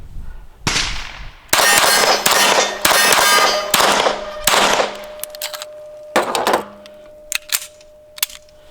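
A Dan Wesson DWX Compact pistol being cycled by hand through a magazine of rounds gives loud metallic clangs and slide clacks, a burst of closely spaced strikes followed by sparser ringing clicks, with no talking.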